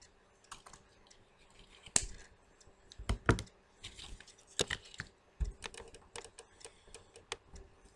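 Scissors cut ribbon for a craft bow in a string of sharp, close snips and clicks, quiet between bursts and with no talking.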